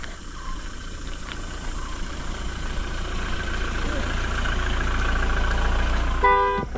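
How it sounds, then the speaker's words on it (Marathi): A car horn toots briefly near the end, close by, over the steady hum and rumble of a vehicle approaching on a four-wheeler mountain road up to a village temple. "इथून गाडी आली आहे कोणाची तरी"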